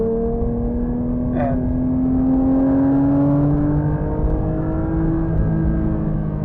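Porsche 911 GT3 (992) engine revving in manual mode after a downshift from fifth to third, its loud in-cabin tone climbing steadily with a brief sharp blip early on, under a constant road roar.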